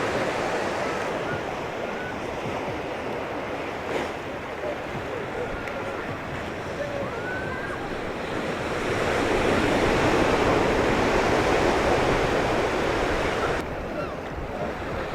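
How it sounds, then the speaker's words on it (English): Ocean waves wash steadily onto a beach at Looe, Cornwall, with a broad, hissing rush and some wind, swelling louder for a few seconds before easing back. "the lapping waves"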